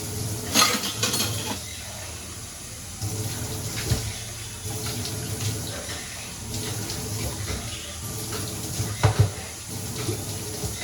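Tap water runs steadily while a kitchen sink is washed, with splashing, occasional clinks of dishes and scrubbing noises close by throughout.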